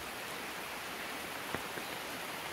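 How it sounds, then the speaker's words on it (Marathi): Steady, soft rain falls over open farmland with a bamboo fence, a faint even hiss throughout with a couple of brief louder drops. "अहो पाऊस."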